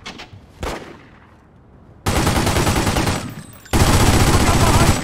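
Heavy gunfire in The Godfather video game: a burst of shots, then two loud stretches of sustained, rapid automatic fire, close and dense, with no talk over it.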